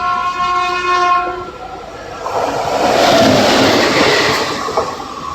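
A MEMU local train on the Narasapur to Machilipatnam line sounds its horn in long steady blasts, then the loud, rumbling roar of the moving carriages takes over.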